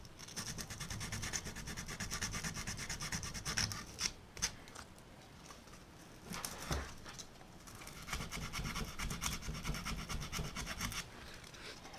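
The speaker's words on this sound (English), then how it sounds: "Actually, the 60 grit's taking it off pretty good." Sixty-grit sandpaper scrubs residue off a part from a Kenmore 70 Series washing machine water pump replacement, in repeated rough rasping strokes with a brief pause midway, close and moderately quiet.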